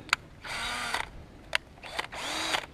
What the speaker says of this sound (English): I'm going to pull this drill back out